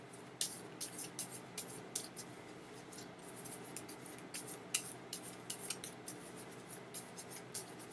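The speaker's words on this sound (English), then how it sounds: "just shuffling a little bit more." Tarot and oracle cards being shuffled by hand, a quiet run of soft, papery riffling bursts repeating in an irregular rhythm, close by and fairly faint.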